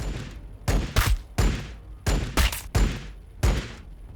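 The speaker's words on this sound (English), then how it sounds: "Let's see how much damage the pistol does." Pistol fire in Warhammer 40,000: Battlesector comes as about eight sharp, loud cracks in irregular pairs and singles, each with a short ringing tail, standing alone without talk.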